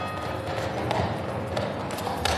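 A horse at Horse Guards in London walks closer, its hooves clip-clopping in a steady rhythm against dense outdoor crowd noise, with a few sharper clacks standing out.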